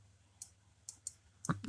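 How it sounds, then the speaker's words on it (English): A computer mouse gives a handful of sharp, faint clicks, spaced irregularly over near silence, with a closer, louder click cluster at the end. "I can hear like the mouse clicking and all that."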